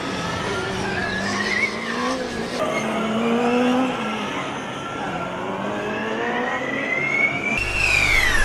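A Formula Student race car at an endurance event sweeps through a chicane near the start line, its engine pitch rising and falling with gear changes, tires squealing, while a commentator talks over the steady roar.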